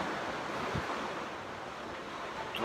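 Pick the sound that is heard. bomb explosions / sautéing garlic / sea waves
sea waves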